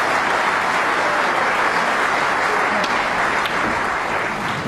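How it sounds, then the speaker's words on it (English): Steady applause from spectators at a neighbouring snooker table during the 2010 World Championship, Selby versus O'Sullivan, a continuous patter of clapping throughout with no voices over it. "There was a little bit of applause coming off the other table."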